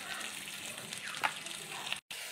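Spice masala of garlic paste, turmeric, chilli and cumin powder frying in a pan, a soft even hiss with a faint stir midway, close and quiet, cut by a brief dropout near the end.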